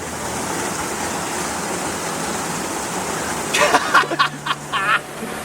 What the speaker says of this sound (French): On est au plus proche de la cascade, Maxence.